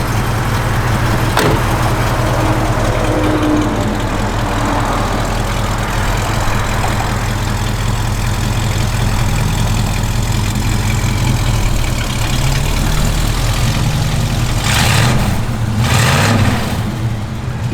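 A 1973 Chevrolet Camaro Z28 V8 idles steadily and loudly up close with a deep, rumbling, slightly lumpy tone, and the engine swells briefly near the end, with no talk.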